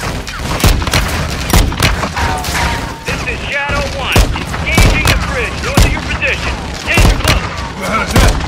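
Heavy gunfire fills a battle in the video game Call of Duty MW II, with loud repeated shots and bursts close by while voices talk over the fighting.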